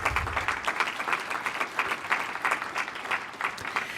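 Audience applause fills a room at a family member update event in Portland, Maine, a steady dense patter of many hands clapping at moderate loudness for four seconds with no talk over it.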